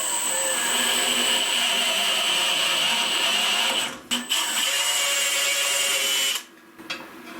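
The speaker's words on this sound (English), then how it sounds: "I got a 3/8 coarse tap in my drill, and we're just going to run it down through gently" A power drill running a 3/8 coarse tap into metal with cutting fluid whines steadily at close range, with two brief pauses near the end as the motor stops and restarts.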